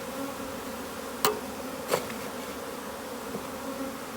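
Honey bees from a package colony hum in a steady, close, low drone, with a couple of sharp taps or knocks breaking through the buzzing.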